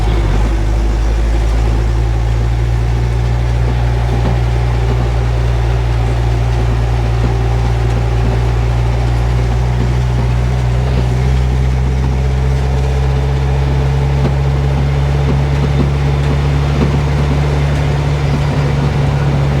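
A 1957 REO dump truck's engine drones loud and close while driving, a steady low rumble whose pitch steps down and shifts as gears change partway through.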